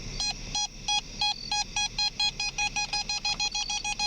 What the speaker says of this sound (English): that's the EMF detector going off again